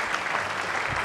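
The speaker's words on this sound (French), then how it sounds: "Applaudissez pour elle" Short stretch of studio-audience applause for a singer on a French-language TV variety show, a dense, steady wash of clapping without talk, moderately loud.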